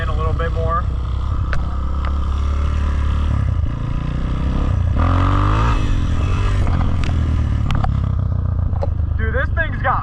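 A freshly rebuilt 1982 Honda XR200R dirt bike engine revs on a road ride, its loud buzzing note rising and falling with throttle, mixed with wind and rattling, and excited voices briefly shouting over it.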